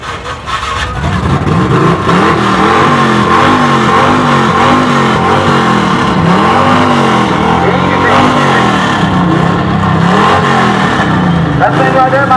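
Truck engines held at full throttle with carburetors struggling, a loud continuous roar with wavering, surging pitch throughout, voices shouting faintly over it.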